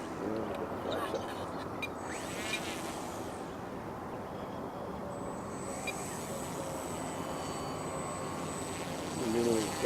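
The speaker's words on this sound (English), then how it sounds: "I'm going to taxi back around here." An E-flite Timber RC airplane on floats taxiing on water, its electric motor whirring steadily at low power throughout, close and continuous, with a person talking over it.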